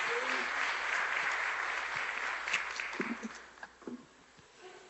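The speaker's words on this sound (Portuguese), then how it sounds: "Podemos aplaudir o Senhor" A church congregation applauding during a service, a dense, steady wash of many hands clapping that gradually fades out, with a few scattered voices emerging toward the end.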